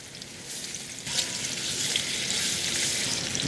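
Chicken frying in a cast iron pan for chicken Clemenceau, a steady close broadband sizzle that swells louder after the first second and holds constant, with faint crackling spatters.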